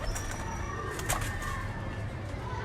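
Pigeons cooing close by, soft repeated coos with a brief flutter of wings amid background noise.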